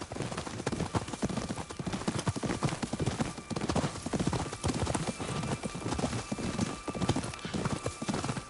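A horse's hooves clip-clop steadily along a road, a close, dense and continuous rhythm of hoof strikes with no voices.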